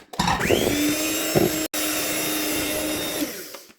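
An electric mixer whirs steadily through cake batter as cocoa is mixed in, with a continuous motor hum that cuts out briefly once, then runs on and stops.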